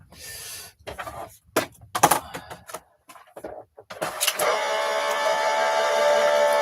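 A craft die-cutting machine is handled with a few knocks and clicks, then its motor starts up and runs with a steady mechanical whir that carries on to the end.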